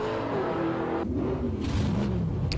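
Older nostalgia drag cars such as Mustangs and Camaros launching hard off the line at a 1992 NDRA drag event, a loud sustained engine roar with rising revs that fills the whole stretch.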